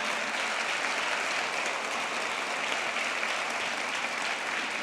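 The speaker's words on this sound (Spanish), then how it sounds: "Denle un aplauso al Señor." A congregation applauding in a church service to praise God, a dense, steady wash of many clapping hands filling the room for several seconds without a break.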